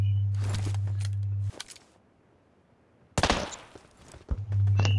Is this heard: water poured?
no